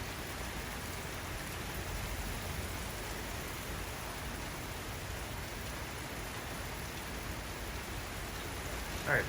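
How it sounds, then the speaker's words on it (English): Heavy rain falls steadily outside, a dense, even hiss with a brief louder patter at the very end and no talk over it. "There's some big rain."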